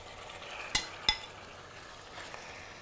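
Mutton frying in a pan with onion and green chilli gives a soft, continuous sizzle, broken by two sharp clinks of a utensil against the pan early on, with no talking.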